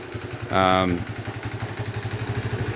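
A Honda CT110 motorcycle with its stock exhaust runs steadily at idle, a low pulsing throb throughout, while a brief loud harmonic tone rises over it near the start.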